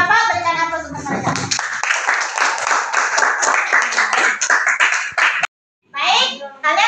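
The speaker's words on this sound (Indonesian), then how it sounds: "Berikan aplaus untuk mereka" Classroom students applauding a group after their presentation, a dense burst of clapping mixed with children's voices, running loud for about five seconds before a brief pause and a short resumption.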